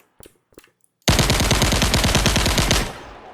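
An automatic rifle in an Unreal Engine 5 game demo fires a continuous burst of rapid, loud, close shots for about two seconds, preceded by a few faint mechanical clicks and followed by a brief tail.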